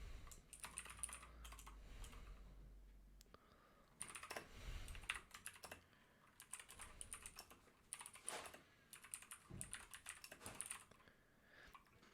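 Quiet typing on a computer keyboard, bursts of rapid key clicks with short pauses between, close by and fairly soft.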